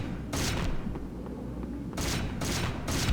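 Bursts of enemy gunfire in Hunter: The Reckoning, with one sustained volley followed by three more rapid bursts, loud and close, separated by short gaps of low rumble.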